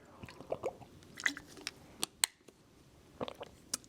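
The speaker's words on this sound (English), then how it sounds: "I'm just gonna take a sip from my water" Someone drinks from a water bottle during a quiet qigong session, giving a few soft, close sips and wet gulps, scattered small clicks and swallows in near silence.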